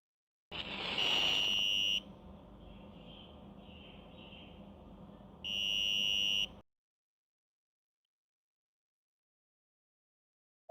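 An Arduino fire alarm piezo buzzer sounds twice: a steady shrill tone lasting about a second and a half, a quieter pause, then another tone before abrupt silence.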